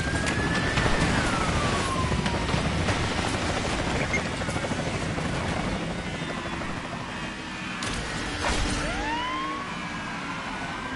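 Helicopter in a video game whirs overhead amid game noise, with rising and falling siren-like wails sweeping through and a dense, steady engine drone across the whole stretch.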